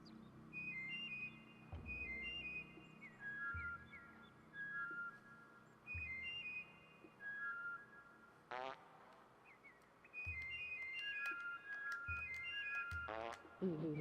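Mudokons whistle in Oddworld: Abe's Oddysee, short melodic phrases of clear whistled notes repeating in call-and-answer bursts over soft low game thumps, with a couple of sharp rising sweeps and no talk.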